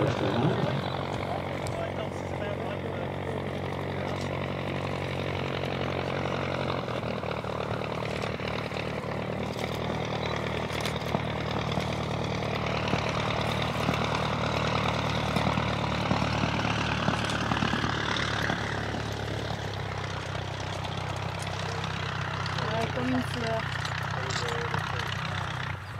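Vintage Avro Triplane propeller aircraft engine running steadily and loud at close range as it taxis on the ground, its drone shifting in pitch partway through, with no talk over it.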